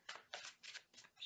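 Tarot cards are shuffled by hand in four quick, papery bursts with short gaps between them, close and fairly soft.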